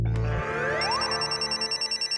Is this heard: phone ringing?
yes